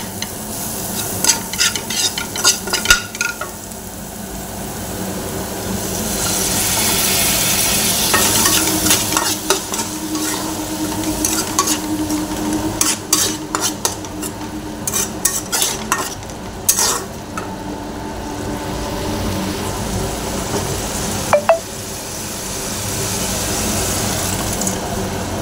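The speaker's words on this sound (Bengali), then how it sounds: "দিয়ে খানিকক্ষণ নাড়াচাড়া করে এবার ডালটা ঢেলে দেবো।" Something frying in a pan while being stirred, with steady sizzling and scraping strokes, then dal poured in, making a wet rushing splash. The sounds stay close and moderately loud, with no voices.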